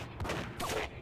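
Brief gunfire in the Max Payne video game, a couple of muffled shots thudding within about a second, loud and close amid ambient game noise.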